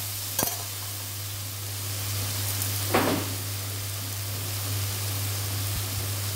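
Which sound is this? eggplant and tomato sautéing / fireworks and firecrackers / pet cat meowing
eggplant and tomato sautéing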